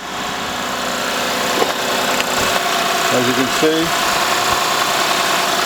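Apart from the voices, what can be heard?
car engine idling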